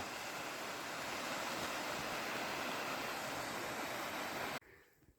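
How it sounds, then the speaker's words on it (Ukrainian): Waterfall in the Carpathian forest, a steady dense roar of falling water heard close and loud for several seconds before it abruptly cuts off to quiet ambience. "О, добрались до водоспаду."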